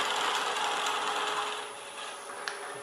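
A drill bores into an oak pen blank spinning on a wood lathe at slow speed, a continuous close grinding hiss of cutting wood that eases slightly toward the end.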